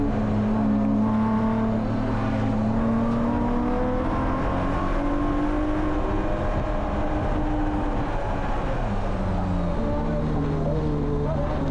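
Spec E46 race cars at Willow Springs, a continuous loud engine drone heard from inside one car, with shifting pitch as other cars rush past during the race.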